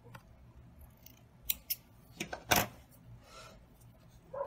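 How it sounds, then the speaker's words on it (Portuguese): Scissors snip the end of a grosgrain ribbon with a few quick, crisp cuts close by in a quiet room, with no talk. "Vou cortar essa pontinha aqui."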